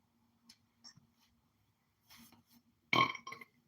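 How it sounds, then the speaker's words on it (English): A loud, close burp erupts after a few faint mouth clicks and rustles, followed by a short trailing gurgle. "Oh, my burp."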